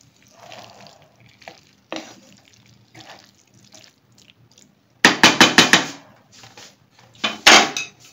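Diced cheddar and mozzarella cheese stirred in a pan off the heat, with soft scraping between quieter moments and then a burst of rapid, loud clattering strokes of a utensil against the pan, repeated briefly near the end.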